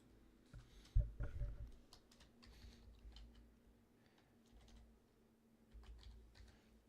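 Computer keyboard keys are typed in quick, irregular bursts of faint clicks, close by and quiet, with a soft background hum.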